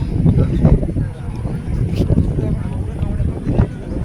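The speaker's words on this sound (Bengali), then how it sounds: "এই দেখো নৌকায় উঠে পড়েছি" Wind buffets the microphone during a short river crossing by boat near Mayapur, a loud rumbling rush with people talking over it throughout.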